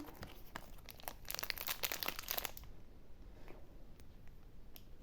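A Bajeczny candy bar wrapper being torn open and crinkled up close, with a dense burst of crackling plastic rustles followed by a few fainter scattered crinkles and ticks.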